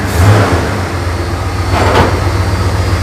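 A rebuilt engine runs at high idle in a garage, a steady mid-pitched hum and rumble held at close range with no talk over it.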